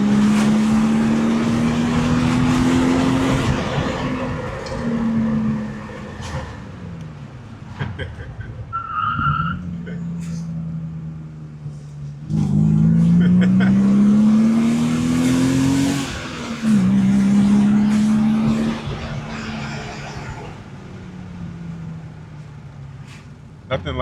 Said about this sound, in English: Nothing like a rear-wheel drive car.